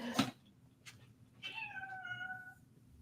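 A cat gives one clear, rising-then-falling meow after a sharp thump and a brief breathy sound, with quiet room noise around it and no talk.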